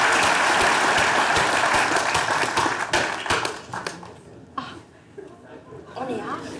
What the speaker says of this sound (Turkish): Kolluk kuvvetlerine kocaman bir alkış alalım.